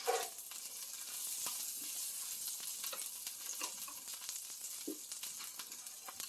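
Butter melts in a hot pan with a soft, steady sizzle and light crackle, quiet and close, a few faint clinks of a utensil over it.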